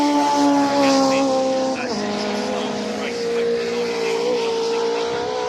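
Mini racing cars circle the Brands Hatch circuit during the Mini Festival, with loud, close engine drones and shifting pitch as cars pass, one car's note dropping around the two-second mark, under a commentator talking over the track sound.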